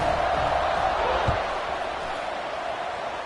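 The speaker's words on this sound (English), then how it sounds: "this crowd is buzzing after that last score" A stadium crowd buzzes in a football video game after a score, a steady, dense roar with one thump in the middle, loud and continuous throughout.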